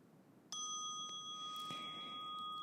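A single bell struck once to close a yin yoga practice, ringing out clearly with a long sustained tone that hangs over a quiet room, with a faint second touch partway through.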